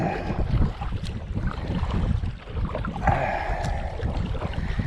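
Strong wind buffets a small kayak out on open water in early spring, giving a continuous rough rumble and gusty rush close to the microphone, with light water sounds and no talk.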